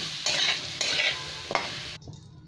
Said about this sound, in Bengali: এবার একটু ঘি দিয়ে দিলাম। ঘিটা একটু গলে যাবে, তেলটাও গরম হবে